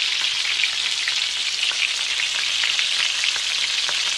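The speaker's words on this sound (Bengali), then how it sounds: "অন্যদিকে কড়াই গরম বসিয়ে দিয়ে এবার আস্তে আস্তে পকোড়াগুলোকে ছেড়ে দিচ্ছি।" Vegetable pakoras in gram-flour batter fry in hot oil in a wok, giving a steady, loud, close sizzle with small popping crackles throughout and no talk.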